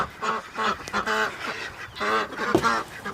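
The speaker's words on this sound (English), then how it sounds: "We are now looking at the ducks in my fancy little pen that I made." Several ducks quack loudly and rapidly nearby, overlapping calls in a busy, continuous chorus with no talking.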